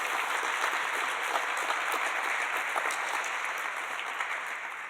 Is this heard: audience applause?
yes